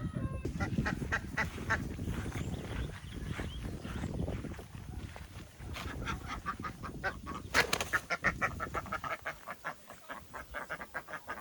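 A flock of ducks quacks and honks loudly and repeatedly, close by, in a dense overlapping chorus that grows more rhythmic toward the end.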